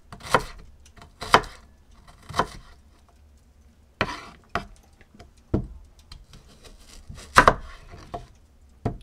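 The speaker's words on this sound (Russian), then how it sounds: "так вот нарезаем лук" A knife chops through a large onion on a cutting board in a village kitchen, a dozen or so irregular, close knocks with pauses between them and no talking.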